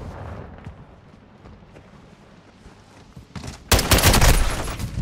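Gunfire in the video game Call of Duty Modern Warfare II: quiet game ambience with faint scattered pops, then a loud sustained burst of rapid automatic fire near the end.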